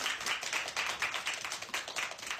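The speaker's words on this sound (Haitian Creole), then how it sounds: "Et si vous êtes d'accord avec le président, applaudissez-le." A crowd in Cap-Haïtien applauding a self-styled president: dense, continuous clapping from many hands, steady and fairly close for the whole short stretch.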